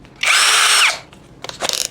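A Gtools GT34+ cordless impact drill with a 10 mm bit bores into concrete in one loud, high whining burst of about two-thirds of a second, followed by several shorter revving pulses close by.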